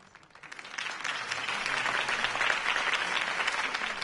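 Cartoon crowd breaks into sustained applause after a campaign speech, a dense wash of clapping that swells within the first second and stays steady and loud.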